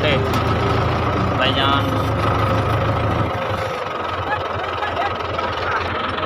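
A key-start tractor hitched to an 18-foot sand trolley idles with a steady, loud diesel rumble that drops slightly partway through, while someone speaks over it.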